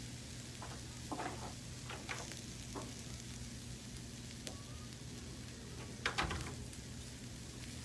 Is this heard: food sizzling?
yes